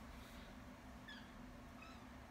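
A kitten gives two short, faint, high meows about a second apart over a low steady hum indoors.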